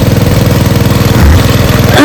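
A small four-stroke petrol engine driving a three-inch water pump, drawing water from fields, chugs close and loud with a fast, steady rhythmic putter, running continuously.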